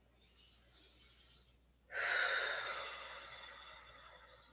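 Deep cleansing breaths during a gentle yoga forward fold: a soft, airy inhale followed by one fuller, louder exhale that slowly fades, heard close and alone.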